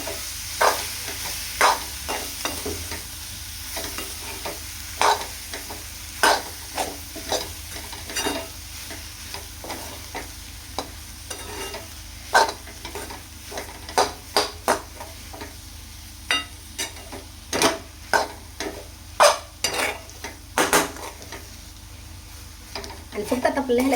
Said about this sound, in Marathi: आणि फक्त आता आपल्याला ह्याला 1 ते 2 मिनिटं परतून घ्यायचंय